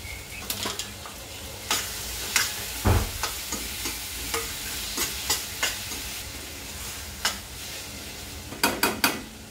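Capsicum, green chili and ginger-garlic paste get stirred in a hot pan, a spoon scraping and knocking against the metal in irregular strokes over a soft continuous sizzle.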